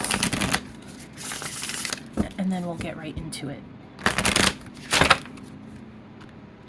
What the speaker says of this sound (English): So I'm gonna give this some shuffles